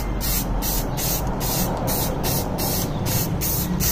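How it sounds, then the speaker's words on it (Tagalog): Aerosol spray paint hisses steadily onto a car horn bracket being coated flat black, loud and close, with rapid rhythmic pulses as the can sweeps back and forth. "spray na po natin dito sa likuran naman."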